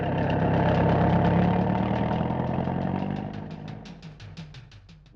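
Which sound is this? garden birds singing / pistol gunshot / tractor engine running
tractor engine running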